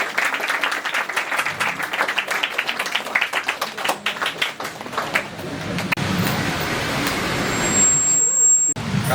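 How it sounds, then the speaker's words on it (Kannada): A crowd at a women's association dance and bhajan troupe event in Mangaluru breaks into loud, dense applause. The clapping runs continuously, then gives way to a steadier wash of noise near the end. "ಜೋರಾಗಿ ಚಪ್ಪಾಳೆಯ ಮುಖಾಂತರ ಅಭಿನಂದಿಸಬೇಕಾಗಿ ಕೇಳಿಕೊಳ್ಳುತ್ತಾ ಇದ್ದೇನೆ"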